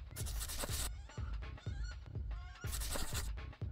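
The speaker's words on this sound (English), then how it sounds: "So are the loons." Loons calling on a cottage lake, several loud, wavering cries repeating close by in an outdoor setting with no talk.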